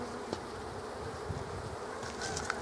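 Honey bees shaken off hive frames while queens are released hum in a dense, continuous close buzz that stays steady and fairly loud, with small knocks from the frames.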